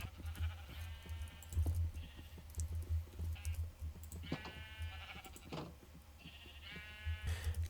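Sheep in the video game Foreverworld bleat in several short, wavering bursts on a sheep farm, with light clicking and a low steady hum between the calls.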